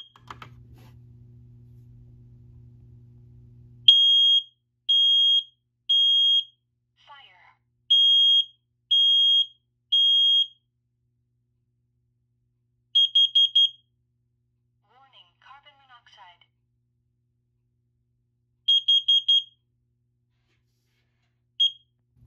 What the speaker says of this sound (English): we're going to go ahead and give this alarm a quick test.